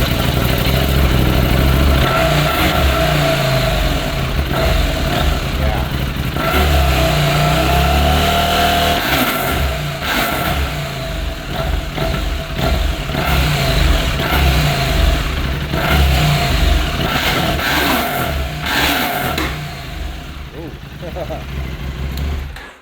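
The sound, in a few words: KTM 790 Adventure motorcycle with Arrow non-catalyzed mid pipe revving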